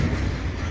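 A moving train rolls through rural Ireland toward Dublin, its loud, steady interior rumble filling the short span with no voices.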